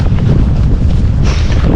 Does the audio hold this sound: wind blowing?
yes